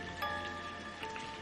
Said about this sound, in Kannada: ಈ ಮಳೆ ನಿಲ್ಲೋದಿಲ್ಲ.